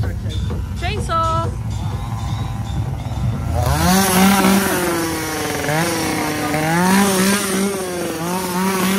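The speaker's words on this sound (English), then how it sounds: "Chainsaw." A chainsaw engine revs and drones with shifting pitch, loud and close, after a few seconds of other noise and voices.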